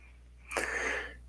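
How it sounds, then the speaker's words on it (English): A person breathes close to the microphone during a landscape painting session, giving one loud, breathy rush of air that lasts about half a second after a quiet start, with no talking. "Sorry if I'm breathing in your ear."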